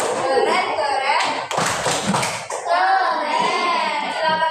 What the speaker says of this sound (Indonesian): Kalau keren kita kasih apa? Tepuk keren.